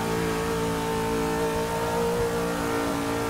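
A limousine's engine in Forza 6 roars at full throttle during a racing lap, a steady, loud, buzzing drone with layered harmonics that holds without a break, alone and close.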